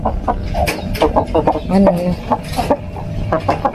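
Backyard chickens and hens clucking noisily and excitedly, a busy run of close, overlapping clucks with no talk heard.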